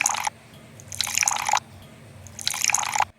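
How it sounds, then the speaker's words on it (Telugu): Mutton oil poured into a pot in three short bursts of splashing and dripping, each lasting about half a second with quiet gaps between, close and clear with no talk. "లైట్గా కొంచెం మటన్ ఆయిల్ వేసుకుందాం."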